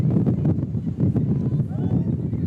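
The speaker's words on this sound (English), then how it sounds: "But, man, is it windy?" Wind buffets the microphone at an outdoor college softball game, a steady low rumbling roar with gusts under a commentator's voice.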